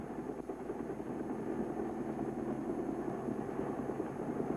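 A helicopter gunship flying over the Delta, a steady close rotor-and-turbine drone that holds at constant loudness throughout with no voices.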